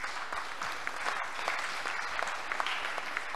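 Quiet applause from a gathered crowd at a conference of French-speaking parishes and congregations, a soft, steady patter of clapping heard from a distance without pause.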